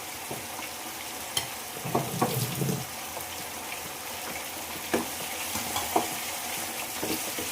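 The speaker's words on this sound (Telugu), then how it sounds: "కరివేపాకు కూడా ఇప్పుడు యాడ్ చేస్తున్నాను" Curry leaves dropped into hot oil in a pan while cooking chicken curry, a soft crackling sizzle with scattered stirring clatter, moderately close and fairly quiet, no voices.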